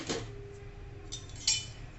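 Wheat flour tipped into melted ghee in a pan for sukhdi, a brief close clatter of a utensil against the pan at the start and another sharper metallic clink later over quiet kitchen background.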